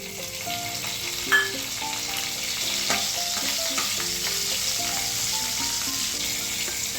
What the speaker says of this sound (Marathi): आता त्यामध्ये आपण एक चमचा मोहरी घालूयात पाव चमचा हिंग थोडासा कढीपत्ता